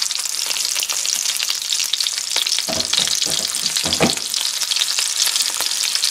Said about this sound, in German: Die Currywürste sind jetzt 2 Minuten auf dem Backofen in der Pfanne.